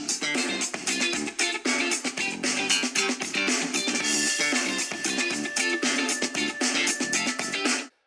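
An Alienware X16 laptop plays music through its speakers at 80% volume, a dense, punchy track with a steady beat that runs for about eight seconds before stopping abruptly, with no speech.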